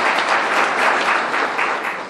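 Audience at a memorial event for a brigadier general claps in a sustained, dense wave of applause that stays loud and fades slightly at the end.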